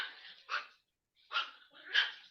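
A dog barks three times in short, sharp bursts with a pause in between, fairly close and clear, with no talking.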